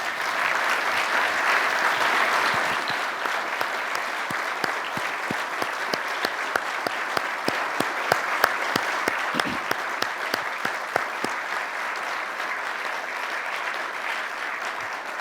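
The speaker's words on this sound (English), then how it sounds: "I'd just like to give you a round of applause." An indoor audience applauds at a Canadian Club gathering, sustained dense clapping from many people that stays loud and even throughout, with individual sharp claps standing out.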